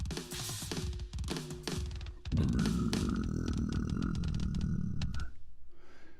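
Grindcore played back in the Cubasis 3 app on iOS: dense, harsh distorted guitars and pounding drums, with a choppy opening section before a sustained wall of noise, then a sudden stop.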